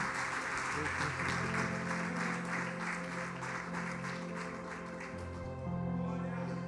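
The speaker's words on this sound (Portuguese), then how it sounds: "Vamos aplaudir a Deus pela vida do pastor Davi." A church congregation at a conference applauds together, dense sustained clapping filling a large hall, with a held organ or keyboard tone underneath and a voice briefly over it.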